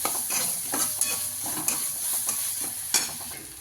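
Egg curry masala with ginger and garlic stirred in a pan, quick scraping spatula strokes over a soft sizzle, close and fairly loud, with no talk.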